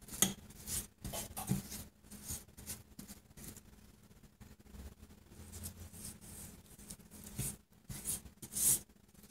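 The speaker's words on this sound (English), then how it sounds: "I'm going to brush the pan, baking pan, with some butter." A pastry brush spreads butter across a baking pan while layering a kunafa vermicelli cake, giving faint, scratchy strokes that come in irregular bursts close by.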